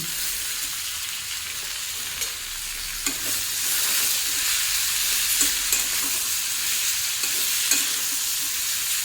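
Boiled flat beans tossed into onions that are mostly fried crackle in a steady, close sizzle, with light scraping as a spoon stirs them through the pan.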